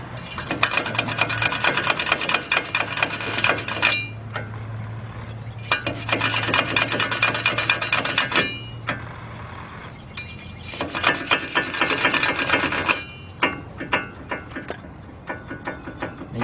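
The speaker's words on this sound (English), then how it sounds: "we're going to take you a wire brush and right around where the rotor sits" A wire brush scrubs rust off the front hub of a 2003 Lincoln Navigator where the rotor sits, giving loud, close, rasping strokes in three long bursts separated by brief pauses.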